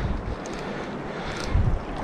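Wind buffets through a sheltered river valley, a soft, steady rushing with low gusty rumbles that swell briefly near the end.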